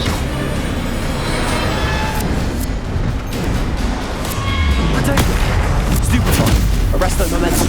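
Bombarda blasting spells in the Hogwarts Legacy video game go off as repeated heavy booms and crackling bursts amid dense battle noise, loud and continuous throughout.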